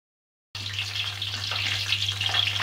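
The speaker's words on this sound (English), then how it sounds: "As you can see, I've added all the mushrooms in my frying pot. And as you can see, they're frying away." Mushroom pakoras fry in a pot of hot oil, a steady close crackling sizzle that starts abruptly after a moment of silence and continues evenly with no talk over it.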